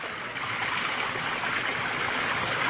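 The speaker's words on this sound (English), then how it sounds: "the water trickles out the little holes, making a small shower." Water spills steadily from a set of small holes in the base of a brass ladle-like vessel, a continuous hissing shower of trickling streams heard close and fairly loud, with no voices.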